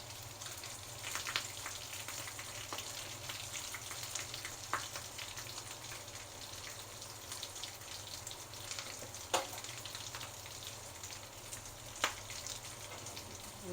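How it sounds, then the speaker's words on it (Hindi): Aloo tikki potato cutlets frying in a pan of oil, a steady soft sizzle with scattered small pops and crackles, fairly quiet and continuous without any voice. "बाकियों को भी हम इसी तरह से फ्राई कर लेंगे"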